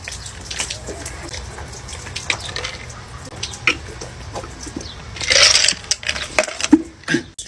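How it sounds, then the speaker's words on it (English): Ice-cold water from a bucket drips and splashes in scattered, uneven bursts, with a louder rushing splash near the middle and several sharp drops toward the end, close and fairly quiet over a faint background hum. "Bucket of ice water."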